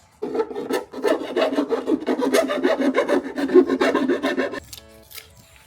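A hole saw cuts into a part on a new Harley-Davidson motorcycle, giving a loud, steady grinding rasp for several seconds before it abruptly stops.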